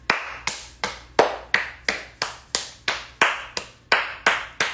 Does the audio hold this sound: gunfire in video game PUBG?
no